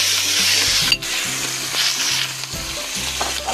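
Pieces of fatty, lightly starch-coated duck sizzle loudly in a hot pan for a braised duck dish with pickled plum sauce and young ginger, with steady frying crackle, a sharp utensil clatter near the start and scraping stirs.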